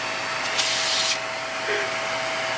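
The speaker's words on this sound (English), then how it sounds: "so I had to vacuum them up with this" A handheld vacuum cleaner runs steadily throughout at close range, its constant whine and airy hiss carrying with no pauses and no speech over it.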